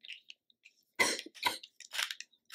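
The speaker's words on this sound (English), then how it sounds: "Coughing." A woman's coughing fit, several harsh throat-clearing coughs in quick succession, close and fairly loud with short quiet gaps between bursts.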